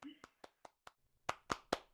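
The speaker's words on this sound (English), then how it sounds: "audience, if you would please join me and give some applause to Jessica" A handful of separate, sharp claps at a virtual plenary presentation for the presenter Jessica, sparse and uneven at first, then a few louder claps near the end.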